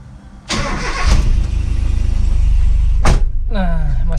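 A Toyota Kijang Super car engine cranks with a sharp starter burst, catches, and settles into a steady low idle close by, with a brief second noise near the end and a voice heard over the running engine.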